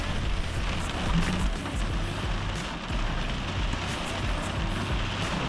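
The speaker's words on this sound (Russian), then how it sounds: "Реально, вертикальный дождь вообще не опасный." Steady rain falls on and around a parked car in a medieval Italian town, a dense continuous patter with some wind noise, loud and constant throughout with no voices.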